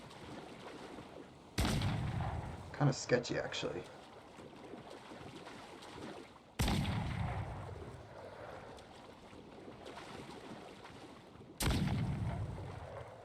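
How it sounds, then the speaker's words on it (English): Cannon fire in the naval combat of Assassin's Creed 4 Black Flag: three heavy booming blasts spaced about five seconds apart, each decaying into a rumble, with someone talking quietly between them over a faint water-and-wind bed. "as long as I don't let them actually hit me with those cannons"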